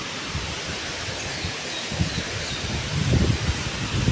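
Wind blows steadily through trees outdoors, a broad continuous rush with leaves rustling and a few stronger gusts toward the end.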